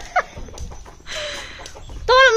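Chicks and chickens call with short, high peeping chirps near the start and a louder burst of chirps at the end, over a low background murmur.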